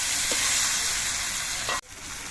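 Mixed vegetables fry in a pan for a Bengali river-fish chorchori, giving a steady close sizzle with a couple of brief stirring scrapes before it cuts off abruptly.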